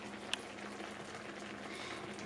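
Chunks of butternut squash boil in a pot of water, a quiet, continuous bubbling and popping with one sharp little pop early on, heard alone.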